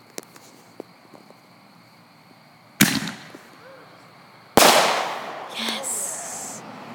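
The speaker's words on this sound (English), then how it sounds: "that was actually really cool that they were actually shooting off fireworks" Two loud firework blasts boom a couple of seconds apart outdoors, each followed by a crackling, rumbling tail, with faint pops before them.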